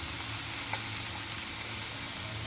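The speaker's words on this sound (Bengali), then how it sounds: "টমেটোটা দিয়ে দিই।" Tomatoes hit a pan of onions, garlic and ginger frying in oil, and a dense, continuous sizzle fills the kitchen at close range with no voices.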